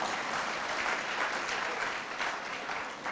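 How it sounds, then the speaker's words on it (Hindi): An audience at a spiritual discourse on the Hanuman Chalisa claps together in a dense, steady burst of applause that holds at an even level throughout, with no speech over it. "अभी समझ में आई तो ताली बजाओ फिर आपको।"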